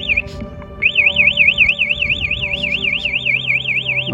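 An anti-theft motorcycle alarm wails loudly and close, a continuous rapidly warbling siren tone that starts after a short chirp and keeps cycling evenly, with low mechanical noise underneath.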